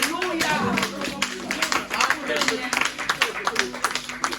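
A church congregation clapping, with rhythmic claps growing more distinct toward the end, mixed with voices and cheering close by.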